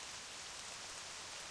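Rain falls in World of Warcraft: Legion, a brief, even, soft hiss of steady downpour with no other sounds.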